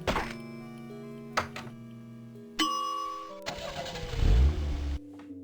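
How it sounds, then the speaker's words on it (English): A car engine in the Sam & Max Hit the Road video game cranks and catches after a few mechanical clunks, then settles into a droning idle and swells into a deep rev before cutting off, with no talking. "Sounds very engine-y."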